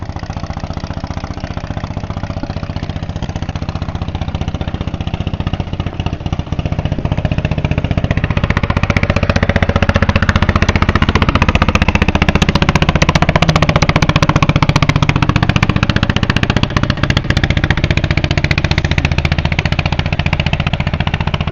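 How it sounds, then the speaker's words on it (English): Loud boat engines on the water in Vietnam, a steady droning rumble that swells louder partway through and holds, continuous and close with no speech. "negotiating the loud boats that are here in Vietnam as well"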